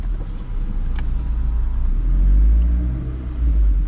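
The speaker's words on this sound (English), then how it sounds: "like that grumbling noise, only this exhaust does it." A low, rumbling exhaust from a Volkswagen GTI Edition 30 with an APR exhaust and DSG gearbox grumbles continuously, close by and fairly loud, with a deep throaty drone and slight swells in intensity.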